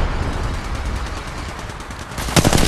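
Rapid, loud gunfire from a firefight in the mobile game Apex Legends Mobile, a dense stream of shots that ends in a sharper, heavier burst.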